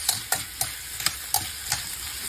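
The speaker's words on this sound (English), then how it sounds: "so I got my bell peppers, onions, bacon, sausage. I'm going to saute this for about 5 to 8 minutes." Bell peppers, onions, bacon and sausage sauté in a pan, with a soft steady sizzle and several sharp scrapes and stirring knocks from a utensil at irregular intervals, close and without talk.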